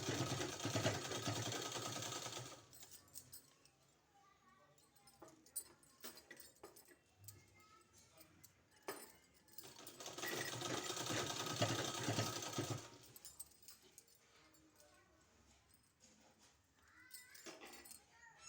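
A sewing machine stitches a kurti neck design in two sustained runs, one at the start and a longer one later, with quieter handling noises between them.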